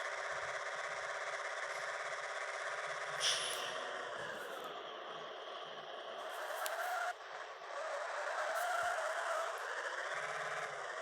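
A fast shop truck drives at speed with a steady loud engine and road roar, its pitch sweeping down and up as it shifts, with a brief clunk midway and no talk.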